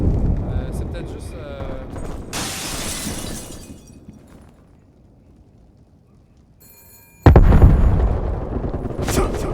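Explosions and gunfire from the Call of Duty Cold War video game come in loud bursts: a harsh blast early on, a quieter stretch, then another heavy detonation that rumbles on, with game voices mixed in.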